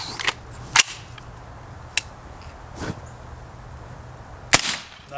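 A suppressed gunshot fired into a stack of vinyl records, heard as a few sharp, short cracks spaced apart against a quiet background, with no talking.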